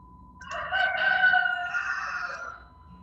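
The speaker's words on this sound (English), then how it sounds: "I hear your roosters, Drew." A rooster crows once, a long harmonic cock-a-doodle-doo lasting about two seconds, nearby and clear above a low background hum.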